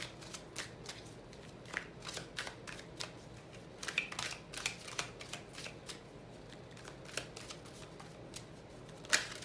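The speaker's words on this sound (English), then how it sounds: "I like to cut the cards 3 times to the left, and I do restack them with this particular spread" Tarot cards are shuffled by hand close up, a series of soft riffling flicks and papery snaps in irregular bursts, quiet and without talk.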